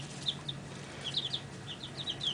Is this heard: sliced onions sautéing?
no